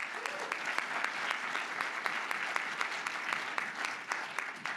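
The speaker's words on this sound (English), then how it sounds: "Let's give them a round of applause." A hackathon pitch-event crowd on a main stage claps steadily for two honored attendees. The round of applause sounds full and even, a little distant, and keeps going throughout.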